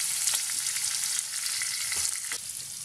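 Ground dal and green chutney sizzle steadily as they are sautéed in a pan, with a continuous close frying hiss and a few faint stirring scrapes, no voices.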